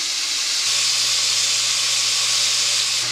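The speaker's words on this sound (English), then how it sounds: "we want to get the meat browned. Mixed in with that onion. I'll just let her sit and brown now." Ground meat browning together with onion in a pan gives off a steady, even sizzle that holds at a constant level throughout, with a faint low hum underneath.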